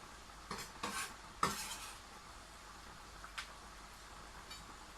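Pasta carbonara ingredients going into a hot pan, a soft steady sizzle under a few sharp clinks and scrapes of a utensil against the pan, quiet and close with no talk.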